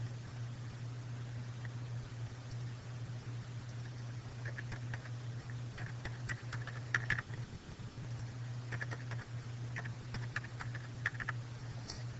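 Light typing on a computer keyboard, scattered soft keystrokes that come in loose clusters over a steady low electrical hum, faint and close.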